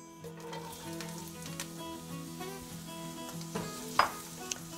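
Vegetables for leftover fried rice sizzle steadily in hot peanut oil, a continuous close frying hiss with occasional stirring scrapes and a sharper clink near the end, no voices.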